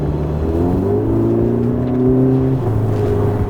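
A car fitted with a cold air intake and a stage 1 tune accelerates hard, its engine droning in rising, overlapping tones with a whooshing intake sound, loud and close with no talking.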